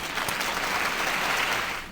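Applause from a group of people clapping together in a radio studio setting, a dense continuous patter at moderate loudness that fades slightly at the end.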